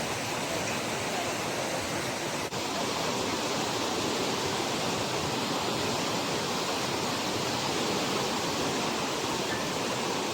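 Floodwater on the Falgu river pours over a rubber dam in a loud, continuous roar of rushing water, broad and unbroken from start to finish, with no talking.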